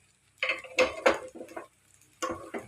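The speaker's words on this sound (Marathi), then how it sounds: "अशा प्रकारे हे आपे तुम्ही पलटून घ्यायचे आहेत" Rava appe are flipped one by one in an appe pan, giving a few sharp metallic taps and scrapes in quick bursts separated by brief pauses.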